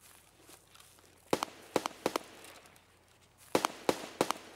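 Two quick bursts of sharp gunshots in Escape from Tarkov, three or four cracks each, separated by a short pause over a quiet background.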